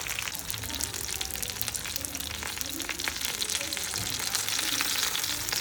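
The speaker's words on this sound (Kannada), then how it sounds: "ನೋಡಿ, ಈ ರೀತಿ ಸ್ವಲ್ಪನೇ ಎಣ್ಣೆ ಹಾಕಿ ತವಾ ಫ್ರೈ ಮಾಡ್ತಾ ಇರೋದು." Fish shallow-frying tawa-style in a little oil on a flat griddle, topped with curry leaves, giving a steady, close crackling sizzle that runs continuously and grows slightly stronger toward the end, with no talking.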